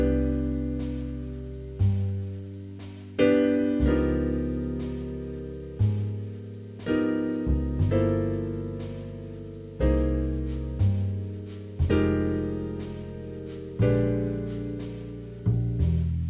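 Piano plays sparse jazz chords with shell voicings in a comping pattern, each voicing struck and left to decay, with roughly regular attacks about every second or two.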